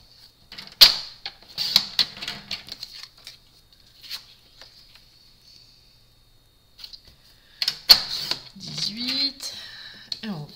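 Paper being cut to 18 cm for a table centrepiece decoration, a run of short crisp snips in two bursts separated by a quiet pause, with faint background handling noise.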